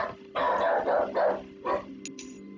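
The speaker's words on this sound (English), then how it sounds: "Yeah, sorry, my dog's barking." A dog barks several times in short bursts, fairly close, over a faint steady hum.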